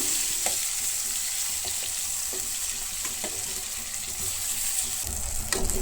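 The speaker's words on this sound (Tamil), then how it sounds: "இப்போ இதை எண்ணெயில் போட்டு நல்லா வதக்கி எடுக்கணும்." Masala-stuffed brinjals are sautéed in oil for ennai kathirikai kuzhambu, keeping up a continuous close sizzle with soft, intermittent spatula taps and scrapes.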